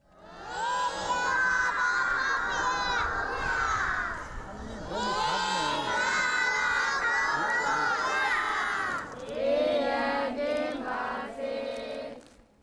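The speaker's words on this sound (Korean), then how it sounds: "학생들은 마치 K-팝 스타에게 환호하듯 열렬한 환영의 몸짓을 보냅니다." A crowd of students at a school gate cheer and shriek an excited welcome, loud and close, rising in long waves of high-pitched shouting with brief dips between bursts.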